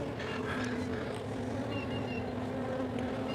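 Honey bees from a package being installed in a four-way nuc hum in a steady, close, continuous buzz with no talking.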